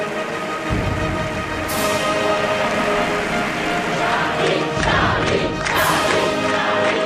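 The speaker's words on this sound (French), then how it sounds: "On entend les applaudissements, on entend la foule qui applaudit ses chefs d'État." Crowd applauding and cheering at a large street demonstration after the Charlie Hebdo attack, a dense continuous roar of clapping and voices that swells slightly toward the end.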